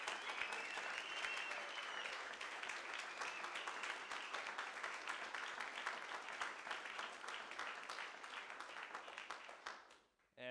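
Sustained audience applause for a colleague at a company monthly meeting, dense steady clapping lasting about ten seconds before fading out abruptly at the end.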